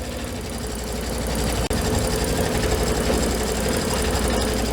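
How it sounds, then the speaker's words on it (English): An embroidery machine stitches out a design for a fabric basket, giving a steady, close, rapid mechanical hum with fine rhythmic stitching texture and one brief dropout in the middle. No one speaks. "Keep stitching out your design."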